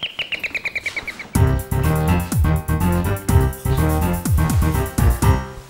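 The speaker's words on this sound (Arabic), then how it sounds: "ايه ده الجرس بيضرب؟" A doorbell rings with a quick series of high, chirping electronic chimes, then loud music with a beat takes over.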